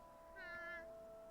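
A small anime cat character gives a single short meow, a quiet rising-and-falling mew heard alone against a soft steady background tone.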